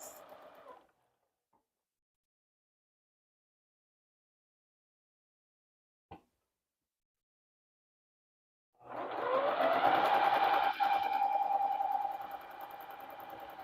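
A sewing machine stitches a quilt, starting with a brief burst and then, after near silence broken by a single click, running in a loud steady whir for several seconds before easing off.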